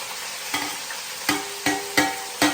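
Potatoes, onions and peas frying in oil in a pan, with a steady sizzle broken by five or six sharp clanks of a ladle stirring at roughly half-second intervals.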